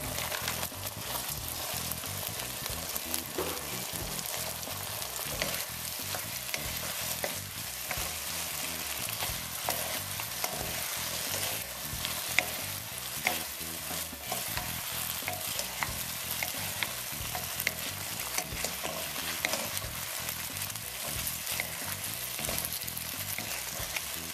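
Beef and broccoli stir-fry in a thickening cornstarch sauce, a continuous loud sizzle broken by repeated scraping and tossing strokes of a utensil in the pan, with no talking.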